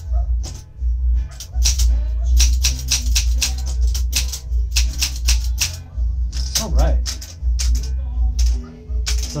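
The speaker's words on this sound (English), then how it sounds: "now I'm going to do the typing test, show the vertical alignment and all the characters are working" A 1968 Olympia SM8 manual typewriter clacks through a typing test, with close, crisp keystrikes in quick irregular runs, short pauses between them, and a low mechanical hum underneath.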